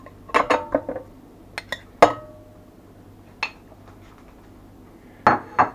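Several pieces of cut tomato drop into a metal pot one after another, giving irregular close clinks and clatters with quiet gaps between them.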